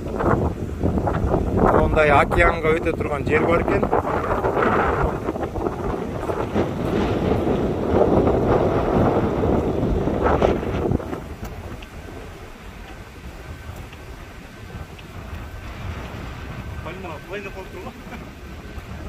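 Strong wind in Florida near the ocean roars and buffets the microphone in loud continuous gusts, easing somewhat partway through, while someone talks over it.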